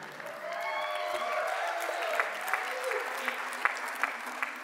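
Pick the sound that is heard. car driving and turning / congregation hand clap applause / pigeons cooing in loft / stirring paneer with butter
congregation hand clap applause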